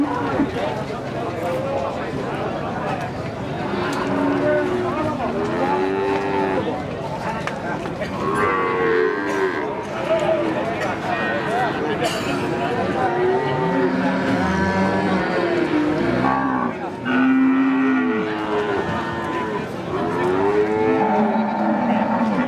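Female Limousin cows low at a busy cattle market, with moos rising and falling throughout among crowd chatter, bidding voices and general market bustle.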